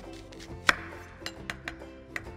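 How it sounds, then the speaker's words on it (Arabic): An onion is sliced on a cutting board with a knife, producing a handful of quiet, irregular taps and cuts up close, with no voices. "رح نقطع البصل"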